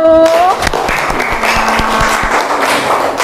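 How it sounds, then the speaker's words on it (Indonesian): Classroom of elementary school students clapping for a group after its presentation, a loud burst of scattered claps with a teacher's voice briefly over it at the start. "tepuk tangan untuk kelompok 1"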